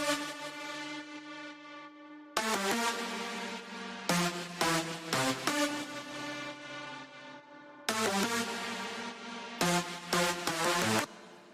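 A bright electronic synth melody plays in repeating phrases of short plucked notes, with sustained tones and brief gaps between sections.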